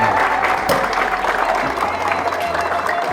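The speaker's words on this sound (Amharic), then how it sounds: "ጭብጨባ ያስፈልጋቸዋል።" An audience at an Ethiopian arts award ceremony claps together, a dense, steady wash of applause that holds evenly from start to finish, with a faint murmur of crowd noise underneath.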